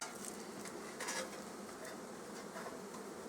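Honey bees drone in a steady, dense buzz around an opened hive during a beekeeping inspection, the hum continuous and close with no voices.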